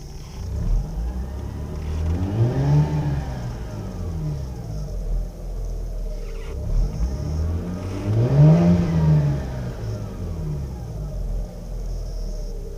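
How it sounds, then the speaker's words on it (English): A Mazda RX-8 rotary engine, warmed up to operating temperature and known for a rough idle, revs twice in two long sweeping climbs and falls, with a steady rumbling idle between them and no voices. "So now we'll rev up the engine"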